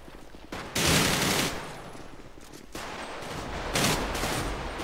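Sustained bursts of rapid video game gunfire during a team bank assault, loud and dense, with brief lulls between volleys and a steady roar of shots throughout.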